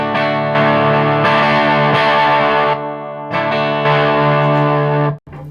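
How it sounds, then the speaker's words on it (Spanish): An electric guitar on the bridge pickup pushed through a Tube Screamer overdrive plays loud, sustained distorted chords, with a brief break before more ringing chords and a sudden cutoff at the end. "Eso sería básicamente darle al overdrive"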